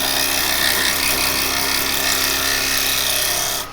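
A traditional woodturning gouge shears across spinning wood on a lathe, riding the bevel on the wing of the tool: a continuous hissing, scraping cut that stays steady and close for several seconds.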